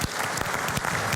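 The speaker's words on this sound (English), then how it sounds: "Big round of applause for Garrett Ford." An audience at the World Arabian Horse Racing Forum conference in Madrid bursts into dense, steady applause, a brief close wash of many hands clapping together.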